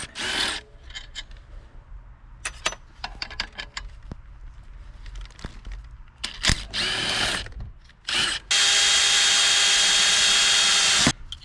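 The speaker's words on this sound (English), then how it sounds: "I'm gonna pull this tensioner back off so I can drill that" A power drill with an 11/32 bit whines in a long steady run into an engine part near the end, after several short bursts of drilling and scraping bits of metalwork clatter.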